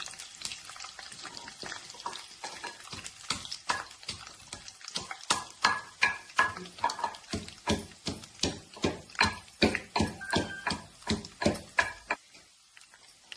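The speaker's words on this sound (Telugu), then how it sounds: "శనగపాయలండి రోట్లో వేసేసి దంచేసేస్తున్నాం." Peanuts being pounded in a stone mortar, a rapid series of sharp, close percussive thuds that starts softer and grows into a steady, strong rhythm of roughly two strikes per second before stopping.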